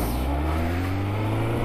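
Motorcycle engine running close by with a steady low droning hum and a slight rise in pitch as it accelerates, continuous and fairly loud throughout.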